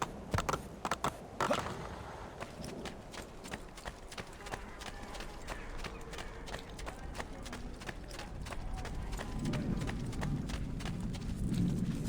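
A horse galloping in Assassin's Creed 2, with quick, steady hoofbeats that run throughout and a low rumble that builds toward the end.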